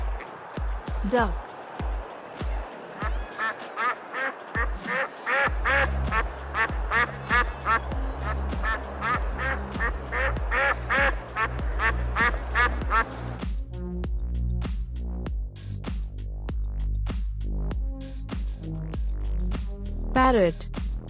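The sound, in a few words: duck quacking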